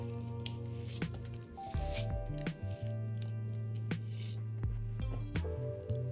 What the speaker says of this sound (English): Tear the tofu into bite-sized pieces and place them in a bowl